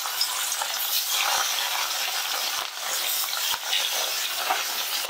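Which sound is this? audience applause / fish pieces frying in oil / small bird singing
fish pieces frying in oil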